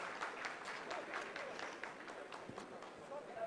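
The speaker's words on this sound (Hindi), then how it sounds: "जी हाँ, आप इस तालियों के गड़गड़ाहट को सुन सकते हैं" Scientists applaud at ISRO mission control after the Chandrayaan-3 landing descent phase, a soft, distant patter of clapping with a faint rhythmic beat and a voice talking over it.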